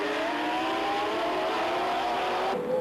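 Formula 3000 race cars from 1985 accelerating out of a hairpin, engines climbing in pitch in a loud, sustained rising whine before cutting off sharply near the end.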